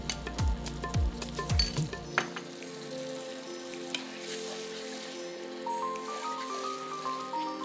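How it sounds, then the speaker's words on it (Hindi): Yogurt poured into sizzling masala for a barnyard millet biryani, starting with a few quick spoon taps and splashes, then settling into a steady crackling fry close up, with no voices. "अब ये मसाले में डाला दही, लगभग आधा कप है जी।"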